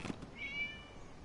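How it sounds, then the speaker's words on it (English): A cat in a game scene gives one short, thin meow at moderate distance, rising briefly over quiet background music and ambience. "It's a cat. It was just a cat."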